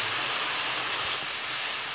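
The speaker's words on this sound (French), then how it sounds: "Le poivre noir et je vais encore mijoter un petit peu" Chicken and vegetable pie filling with olives and black pepper simmers in a pan, giving a steady close hiss and bubble that stays even and continuous throughout.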